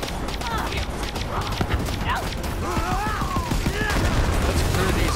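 Gunfire from the video game Borderlands 3, a dense run of rapid shots and mechanical clatter over busy game sound, with a voice talking through it.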